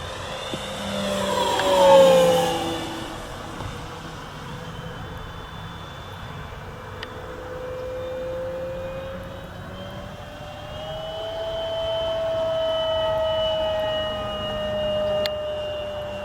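A BTE Kits Delta Vortex model aircraft flies on a grey winter day, its engine whine sweeping in pitch as it passes, loudest early on, then drifting farther off and returning as a steady drone.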